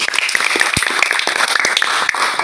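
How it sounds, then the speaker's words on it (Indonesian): A classroom audience of students claps for a student group in an automotive engineering class, a loud, close burst of many hands with a few sharp individual claps standing out, continuous across the short stretch with no speech. "Beri tepuk tangan untuk kelompok 1."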